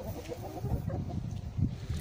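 Hens and roosters in a small flock give short, close clucks in a steady, busy murmur.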